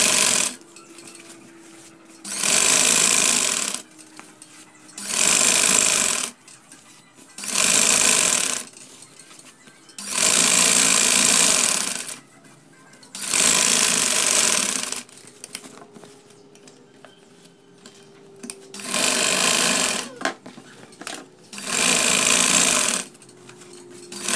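Sewing machine stitching the center seam of a camisole, running in eight loud bursts of rapid whirring stitches a few seconds each, separated by short quiet pauses.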